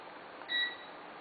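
A ceramic wall-mounted fan heater gives a single short, faint electronic beep as its timer is set with the remote control, over a quiet background hiss.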